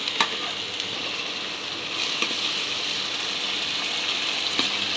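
Ginger, garlic, pepper and cumin paste fries in a pan, a steady close sizzle with occasional scraping clicks as it is stirred, no voices.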